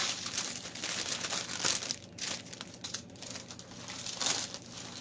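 Plastic packaging of diamond painting drills being crinkled and handled close up: continuous soft crackling and rustling, with a few louder crunches, and no voices.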